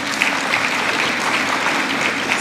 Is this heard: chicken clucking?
no